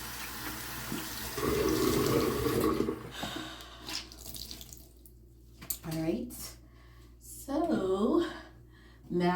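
Water runs steadily from a bathroom sink tap while someone washes their face, with splashing and a voice talking over the flow.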